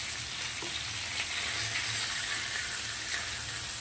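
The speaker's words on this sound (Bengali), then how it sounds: "এবার শুধু এই পিঠটা হালকা হালকা করে ভেজে নেবো এরকমভাবে।" Katla fish pieces fry on a flat tawa, giving a loud, steady, dense sizzle that runs unbroken from start to finish with no talking.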